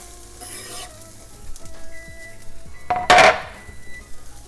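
Chopped onion sizzling as it hits a hot pan with carrots for a weeknight shepherd's pie, stirred with scraping, clinking utensil strokes and one brief loud clatter, no talking.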